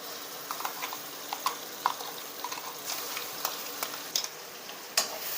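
Misal spice mixture frying in oil over a low flame, a steady soft sizzle broken by light, irregular spoon scrapes and taps against the pan, close and moderately quiet, with no voices.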